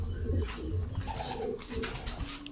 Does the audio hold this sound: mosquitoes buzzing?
no